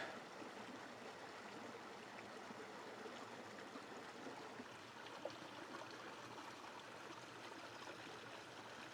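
A stream flows over a low water crossing beside Inca stone walls on a hike near Cusco. Its soft, continuous babble is faint and steady throughout, with no talking.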